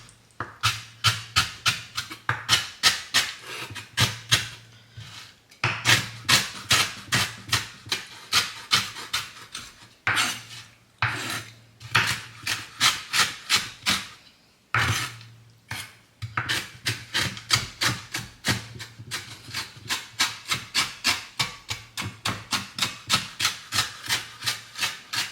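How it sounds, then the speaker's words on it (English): Biscuits are rough-chopped with a knife on a board for an apple crumble topping, giving rapid, regular knocking chops in long bursts with brief pauses, close and fairly loud, with no talking. "So the topping is basically a couple of biscuits. I'm going to chop those,"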